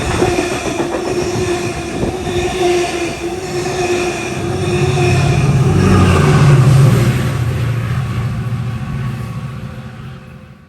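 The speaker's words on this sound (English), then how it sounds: "a MARC train was coming in from Washington, D.C." A MARC commuter train from Washington, D.C. pulls into a station in Maryland. A loud, steady rumble of rail cars builds and swells in the middle with faint wheel squeal, then fades slightly; no voices.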